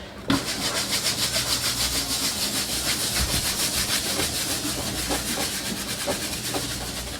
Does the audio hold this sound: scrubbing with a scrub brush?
yes